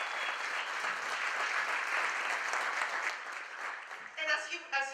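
An audience at a school district English learner conference applauds the keynote speaker Homero Magana, dense sustained clapping through the hall that fades near the end as a voice begins speaking.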